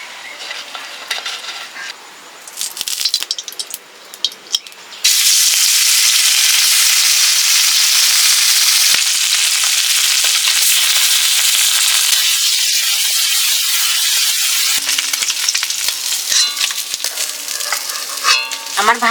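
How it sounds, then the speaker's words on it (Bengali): Turmeric-coated fish fries in a pan, a loud, steady, close sizzle with occasional spits and crackles that starts abruptly after a few seconds of quieter clatter and runs on to the end. "মাছটা ভাজি করব তো।"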